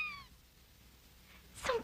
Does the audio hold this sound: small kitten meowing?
yes